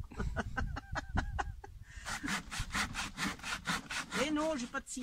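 A hand saw cuts a piece of wood at a 45-degree angle in quick, even back-and-forth strokes, close and clear, with a faster rasping run of strokes in the second half and a brief squeak near the end.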